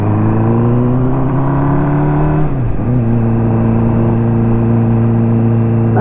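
A car with a misfire holds a loud, steady engine drone while accelerating in second gear on a gravel road. There is a brief dip in pitch midway, then the strong continuous hum resumes, close and with no talk.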